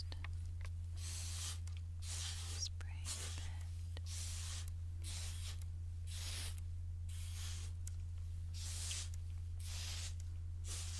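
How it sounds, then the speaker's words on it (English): Repeated short hissing sprays from a spray bottle, about a dozen bursts in a steady rhythm, close up over a constant low hum. "So I'm going to spray some on that ear."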